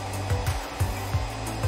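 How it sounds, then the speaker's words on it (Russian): A hair dryer blows a steady, breathy roar at chocolate held on a spoon to melt it, with faint rhythmic thumps pulsing through the airflow throughout. "Помещаем на ложку и включаем фен."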